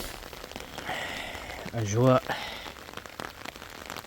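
Heavy storm rain falls on a navel orange orchard as a steady crackling patter, with a short spoken phrase and a brief louder voice bursting through the middle.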